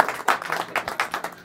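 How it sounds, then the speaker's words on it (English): Brief burst of audience applause for a volunteer at a magic show, a dense patter of hand claps that stays steady for a moment and is heard alone. "Give her a big round of applause"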